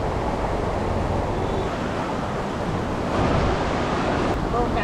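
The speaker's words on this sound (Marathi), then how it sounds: "पाणी बघा किती फास्ट येतं आहे" Fast-flowing river water released into a lake near Khopoli rushes steadily as a dense, continuous broadband wash, loud and close, with wind buffeting the microphone and no clear talk.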